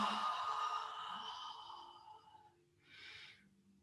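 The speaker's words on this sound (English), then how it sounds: "Reach up overhead and take a big yawn." A person lets out a long drawn-out yawn while reaching overhead in a gentle myofascial yoga stretch, the breathy tone fading out before a short airy exhale, close and alone.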